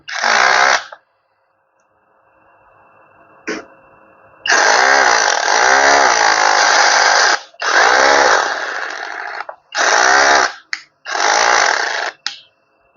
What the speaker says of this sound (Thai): ก็คือถ้ามีสว่านเสียบมันก็ตืดตืดตืด